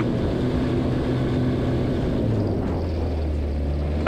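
Viking 130 aircraft engine on a small airplane taking off in snowy subzero weather, a steady loud drone with a low propeller hum throughout, no voices.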